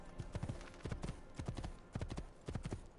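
Horse hooves clip-clopping in Assassin's Creed II, a steady, close gait of paired beats repeating in quick clusters across the whole stretch, moderately loud with a faint background bed.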